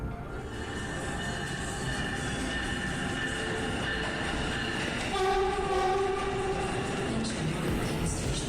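An Amtrak NextGen Acela train runs along the line near Newark, New Jersey, with a steady rumbling rail roar heard from on board and a sustained horn-like tone partway through, loud and continuous.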